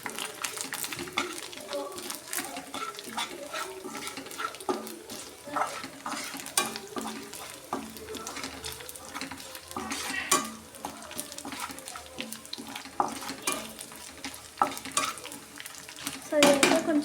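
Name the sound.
stirring rice with chili powder and salt in pan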